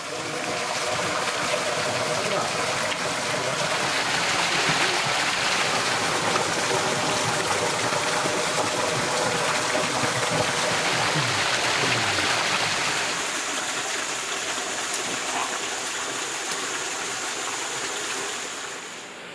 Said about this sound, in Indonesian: Airnya sangat jernih mengalir dari anak-anak sungai yang ada di kawasan hutan ini